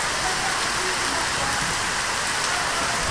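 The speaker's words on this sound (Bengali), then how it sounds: "জোরেই বৃষ্টি হচ্ছে অনেকটা" Heavy rain pours down on a street where water is pooling, a dense, constant roar of drops hitting surfaces, loud and unbroken throughout.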